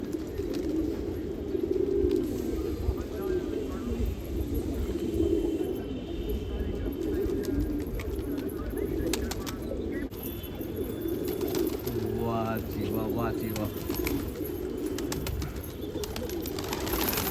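Pigeons, including prized Patiala and crested birds, coo on a rooftop loft amid steady flock murmur and rustling, while someone talks and exclaims excitedly over them throughout.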